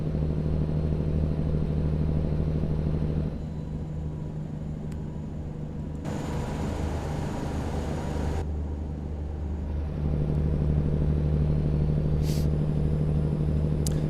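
A Peterbilt 389 truck engine in a trucking simulator video game, a deep steady diesel rumble idling and droning throughout, with a quieter muffled stretch midway and a brief hiss near the end, no talk.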